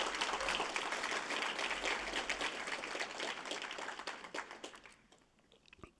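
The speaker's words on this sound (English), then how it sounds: "Let's give ourselves a round of applause" Dense applause at a faculty and staff assembly, a steady wash of many hands clapping that thins out and fades toward the end.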